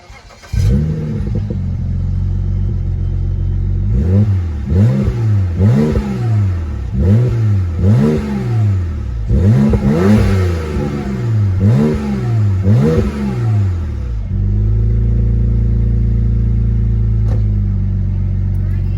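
BMW 335i with new turbos revving hard in a series of rapid blips, about eight rises and falls in a steady rhythm, then settling to a rough idle, loud and close.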